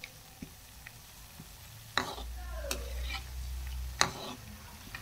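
Something dropped into hot oil sizzles in a pan, with a steady low frying hiss and a few sharp stirring clinks and scrapes at intervals.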